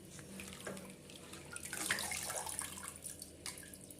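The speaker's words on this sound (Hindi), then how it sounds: "सारे भाजी को हमें ऐसे धो के निकालना है।" Spinach leaves rinsed under a running tap in a kitchen for a potato, spinach and pea dish, with a steady close stream of water splashing over the greens and no talking.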